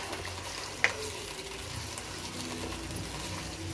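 Masala frying in a karahi pan, with a steady low sizzle running throughout and one brief clink of the utensil near the start, all at a fairly faint level.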